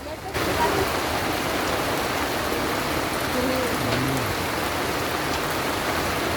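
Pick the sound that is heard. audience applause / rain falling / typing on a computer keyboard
rain falling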